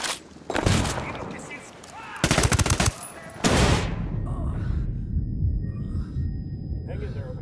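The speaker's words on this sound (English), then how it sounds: "Throwing a flashbang." A flashbang grenade goes off in the tactical shooter Ghost Recon Wildlands. Loud crackling blasts and bursts of fire give way to a muffled aftermath with high ringing tones lingering.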